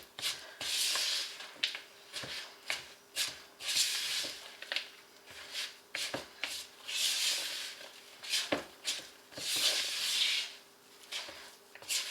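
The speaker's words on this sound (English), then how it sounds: "Now I'm going to stir it up really well so that there is no clumps or dry spots." Cookie mix being stirred by hand in a bowl, a steady run of scraping, rubbing strokes that swell and fade in rhythm over several seconds, close and fairly loud with no talking.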